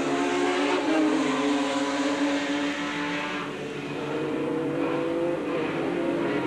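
A Formula Holden open-wheel race car, driven by Mark Scaife at Mallala circuit in 1990, roars past at high revs, its engine note loud and steady throughout, easing slightly mid-way before building again.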